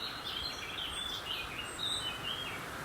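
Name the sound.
birds singing in oak woodland at How Stean Gorge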